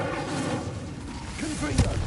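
An Incendio fire spell cast in Hogwarts Legacy gives a brief whooshing burst that ends in a dull thump, heard under a voice.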